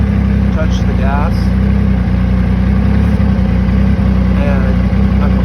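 Yamaha YXZ1000r side-by-side fitted with a GYTR turbo engine, under throttle, giving a steady loud low engine drone throughout with faint higher whine on top.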